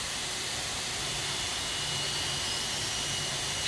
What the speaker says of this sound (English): Hear those engines spooling up.